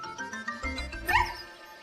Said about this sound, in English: She gave a little bark.